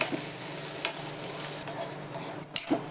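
Corn kernels being sautéed in a pan on a gas stove, a continuous close sizzle with quick scraping stir strokes and light utensil clicks.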